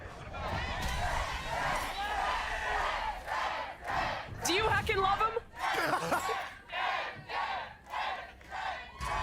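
A large arena crowd at a Valorant esports event chants a player's name in loud, rhythmic bursts that swell and fade, with a caster's voice talking over the roar.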